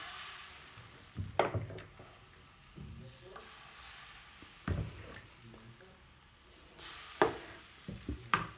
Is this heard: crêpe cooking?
yes